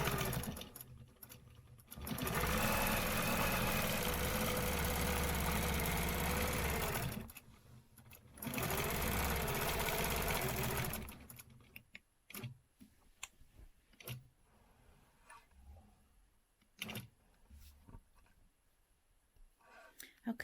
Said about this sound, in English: So let me go ahead and stitch these